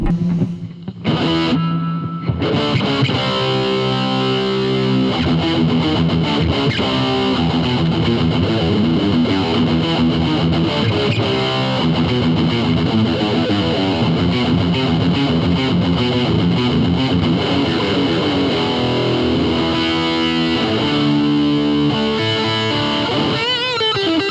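Heavily distorted electric guitar through a Blackstar solid-state amp plays sustained chords and riffs continuously, loud and dense, with a brief pause near the start.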